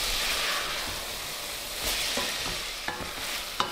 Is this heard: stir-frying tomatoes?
yes